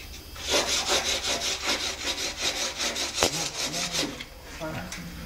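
Sandpaper scrubs a Volkswagen Beetle (Fusca) body in quick back-and-forth strokes, a steady rasping rhythm up close that thins out near the end.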